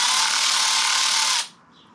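A power tool spins out a screw from a Harley primary cover, giving a loud, close, steady high-pitched whir for about a second and a half before cutting off abruptly.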